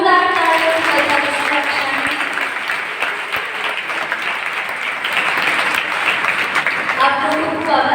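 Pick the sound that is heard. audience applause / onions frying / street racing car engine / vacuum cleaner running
audience applause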